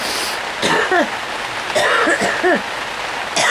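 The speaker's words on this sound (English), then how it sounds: "it's been raining" Steady rain falls outdoors in Surrey on a day of constant downpour, a dense even hiss that runs the whole time, broken by a few brief rising vocal-like sounds.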